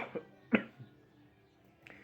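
A man clears his throat with a few short, rough bursts, one stronger rasp in the middle, quiet and close.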